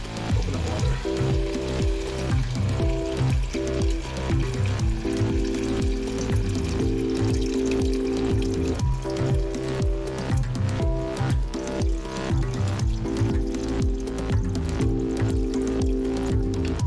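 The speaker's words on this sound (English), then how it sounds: "now we're going to add the coconut water" Coconut water pours into a pot of Vietnamese beef stew with oxtail and tripe, a steady liquid splash and gurgle running continuously over a busy, constant background.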